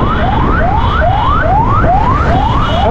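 Ambulance siren wailing loud and close in a fast repeating rising sweep, about seven cycles in three seconds, over steady traffic rumble, no voices.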